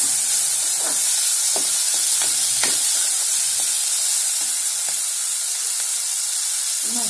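Curry leaves and tomatoes drop into hot oil for Gujarati lachko dal and set off a steady, loud hiss of frying, with scattered clicks and pops over the sizzle.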